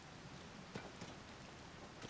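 Steady rain falls in Zelda: Tears of the Kingdom as a soft, even hiss of drops on surfaces, faint and continuous, with a few slightly sharper patters along the way.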